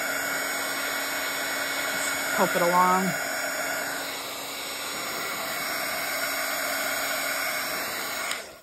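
A heat tool blows steadily against the back of a Bible page, a continuous close whirring hum throughout, with a brief spoken comment over it partway through.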